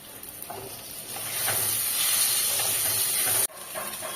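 Tomato dropped into frying potatoes in a pan, bursting into a loud, steady sizzle and hiss that swells, then briefly cuts and resumes.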